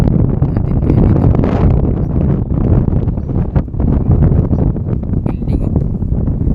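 Strong gusts batter a microphone beside Manila Bay, a loud, continuous roaring rumble that swamps the scene from start to finish, with a voice partly buried beneath it.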